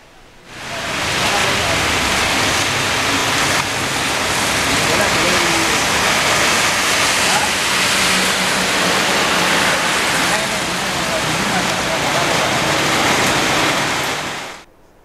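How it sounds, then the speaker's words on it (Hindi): Steady heavy rain hisses continuously in coastal Bhatkal, Karnataka, fading in at the start and out at the end, dense and unbroken, with no voices over it. "भटकल में भी गुज़िश्ता 2 दिनों से मुसलसल बारिश हो रही है"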